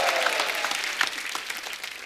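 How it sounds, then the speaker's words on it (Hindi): A studio audience on a comedy talk show applauds, a dense wash of clapping that stays steady and moderately loud for the brief stretch, with no talking over it. "जोरदार तालियां।"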